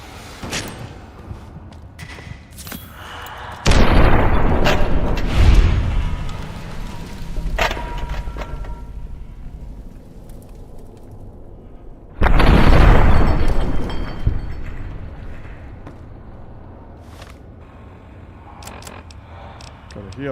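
Grenades burst in Fallout New Vegas Dead Money, two heavy booms several seconds apart, each followed by a rumbling decay, with game sounds and talk in between.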